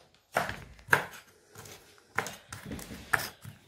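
A knife chops food on a cutting board in a home kitchen while a vegetable and liver dumpling soup is prepared, giving about five or six sharp, irregular chops close up with quiet gaps between them.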